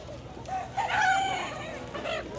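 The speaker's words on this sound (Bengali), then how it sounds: "এখানে দেশি মুরগি, কক মুরগি, পাকিস্তানি মুরগি।" Chickens and roosters at a morning poultry market by the Buriganga river in Dhaka, a rooster crowing in drawn-out calls with clucking around it, close and clear over a faint background murmur.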